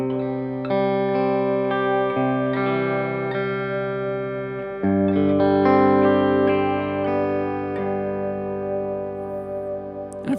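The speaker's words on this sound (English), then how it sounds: "So that's my kind of ambient reverb." Sustained ambient reverb guitar through a Walrus Slo pedal, a held D and G chord blooming into a thick, shimmering wash that swells and shifts midway, steady and close with no talking.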